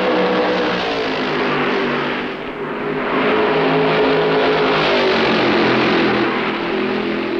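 Stock car engines roar loudly and continuously at the 1965 Darlington Southern 500, a dense sustained race-car drone with a brief dip in volume midway as cars pass.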